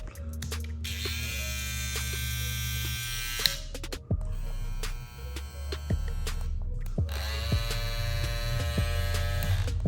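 StyleCraft Saber hair trimmer running, a steady electric buzz and hum with bright harmonic whine, briefly cutting out around the middle before resuming, heard alone at moderate level.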